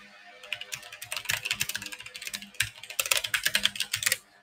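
Rapid clattering keystrokes on a computer keyboard, close and busy, with a short pause midway before the fast typing resumes.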